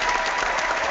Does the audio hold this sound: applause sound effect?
yes